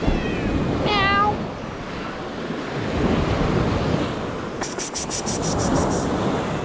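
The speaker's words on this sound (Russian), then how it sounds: "А, это такое, это кот." A cat meows once with a rising, wavering cry at a windy seashore during a fishing trip, over steady wind and surf noise, followed later by a quick series of high chirping calls.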